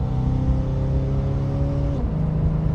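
A 1972 Pontiac Firebird Formula with a four-barrel carburetor, heard from inside. The engine drones loudly and steadily, then its pitch drops sharply at a gear change into second before pulling on again.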